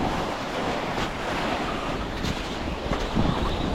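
Loud, steady rush of water in a waterfall trail in New Hampshire, sounding like a continuous roar around someone sliding down through the flow, with brief splashes near the end and no voices.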